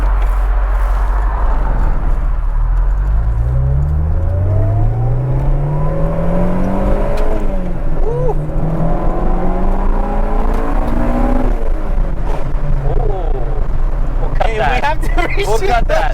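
A 1994 Honda Civic EG with a B-series engine drives and revs through several gears, its engine note climbing and dropping repeatedly beneath a steady road rumble, with people talking inside the car.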